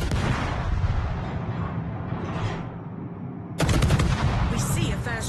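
Heavy warship guns firing in a World of Warships-style naval game battle, a dense continuous roar of booming shots that swells louder and harsher near the end, with no voices.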